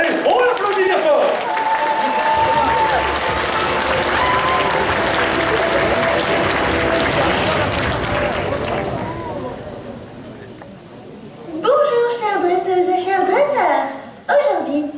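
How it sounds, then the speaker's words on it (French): Sustained loud applause from an audience at a cosplay contest, steady for several seconds before fading, then a voice and a few scattered claps return near the end. "Allez, on l'applaudit bien fort."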